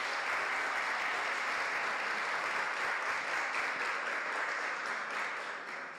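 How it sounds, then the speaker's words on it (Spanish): Warm applause from the audience at a sports journalism conference panel greets invited guests, a full, continuous wash of clapping that stays strong for several seconds before tapering slightly at the end. "Pido un caluroso aplauso para nuestros distinguidos invitados."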